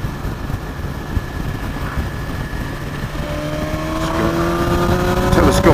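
A BMW S1000 XR motorcycle engine pulls in sixth gear with a steady droning hum under rushing wind noise, its pitch climbing and growing louder toward the end.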